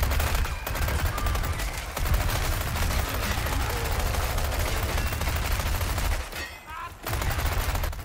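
The Chicago Sweeper submachine gun in Resident Evil 4 Remake fires long, loud, rapid automatic bursts, with a short pause near the end before the firing resumes.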